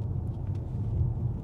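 A car rolling over a concrete road surface, heard from inside as a soft, even low-frequency rumble of tyres and engine with faint intermittent ticks, no voices.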